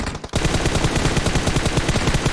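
Sustained rapid automatic gunfire from PUBG Mobile, loud and dense, with steady bursts of shots running almost continuously after a brief gap at the start.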